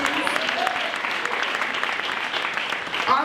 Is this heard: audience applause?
yes